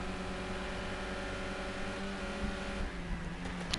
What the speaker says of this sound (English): So you hear the brakes into Quarry Bend.